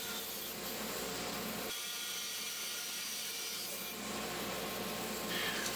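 A large bandsaw makes straight cuts through a wooden box, clearing waste from the middle, giving a steady close whirring drone with rough rasping shifts as the blade bites and releases.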